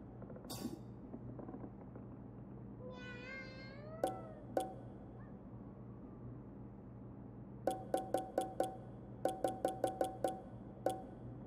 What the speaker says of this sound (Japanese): この猫、何してるんだろう